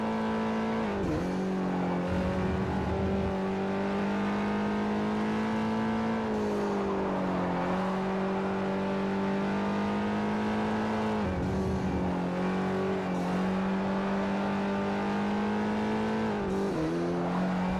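Mitsubishi Lancer Evo 8 engine in Forza Motorsport 4 racing, a steady loud drone with repeated gear-change dips and re-revs, occasional tire squeal, no talking.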